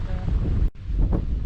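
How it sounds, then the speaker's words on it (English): Strong wind on Yes Tor, a tor on Dartmoor, buffets the microphone in a deep, roaring rumble. It is loud and close, with one brief drop in the middle before the gusting resumes. "the wind is absolutely brutal"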